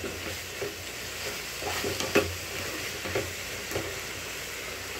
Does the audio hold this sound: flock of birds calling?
no